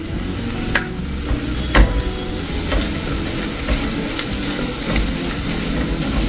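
Chili powder fries in hot oil in a kadai with a steady close sizzle, broken by sharp clinks and scrapes from a stirring spoon against the pan.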